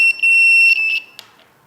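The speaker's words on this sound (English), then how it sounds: "Now the buzzer works." A loud, piercing electronic buzzer sounds in short bursts, cutting off abruptly and leaving near silence.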